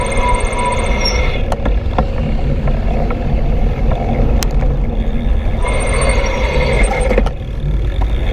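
City traffic and trains roar continuously and loudly, with high metallic wheel squeals rising and falling over a dense low rumble.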